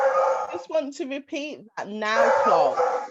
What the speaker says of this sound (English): I know you can hear the dog in the background.